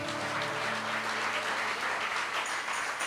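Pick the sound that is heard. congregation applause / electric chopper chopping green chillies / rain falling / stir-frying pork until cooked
congregation applause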